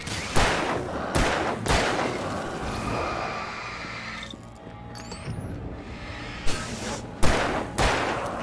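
A shotgun blasts repeatedly in an Alan Wake gunfight, with sharp loud booms spaced a second or more apart, two early and a cluster near the end, and quieter ambience and whooshing effects between them.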